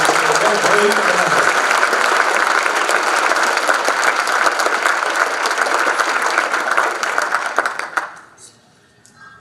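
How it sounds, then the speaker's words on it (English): Audience applause at the 2019 Lapeer Citizen of the Year awards ceremony, a dense sustained clapping from a large crowd that carries steadily for about eight seconds, then fades out quickly at the end. "let's have a big round of applause for all those singing and nominees"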